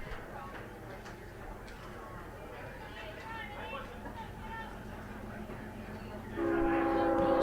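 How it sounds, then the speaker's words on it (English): A distant train passes near an outdoor baseball field during a state tournament game, a steady rumble under crowd chatter and ambient noise, with a louder sustained horn-like tone rising near the end. "So you can hear the train in the distance."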